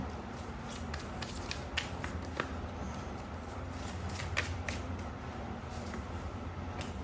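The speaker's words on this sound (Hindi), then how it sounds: "No, I have to shuffle more." Tarot cards shuffled by hand, a soft continuous riffling and sliding patter up close with small taps, steady throughout with no voices.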